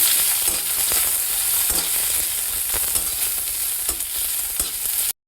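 Onions fry in hot oil in a pan for pasta. A steady loud sizzle fills the whole stretch, broken by repeated scraping stirs of a spoon, and it stops abruptly at the end.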